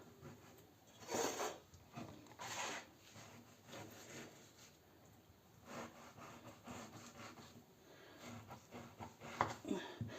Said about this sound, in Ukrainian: Тепер беремо оці ребра і з цього боку отак надрізаємо